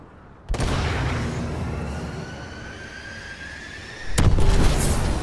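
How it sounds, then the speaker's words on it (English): Missile strikes hit mech units in Call of Duty: Advanced Warfare, a loud, sustained rumbling roar of explosions lasting several seconds, then a second sharp, heavier blast near the end. "Friendly missile strikes inbound."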